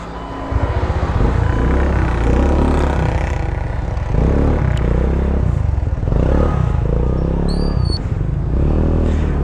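A motorcycle engine runs close by, loud and steady, with a low rumbling idle and slight variations throughout. A faint high whine or squeal briefly rises near the end.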